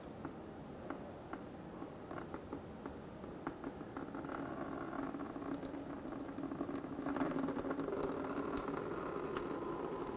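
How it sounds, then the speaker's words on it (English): Coolant drains from the radiator petcock of a 2000–2007 Ford Focus 2.0L four-cylinder into a collection bucket, a faint, steady liquid trickle that swells slightly louder as it goes on. "Open this and allow the radiator to drain."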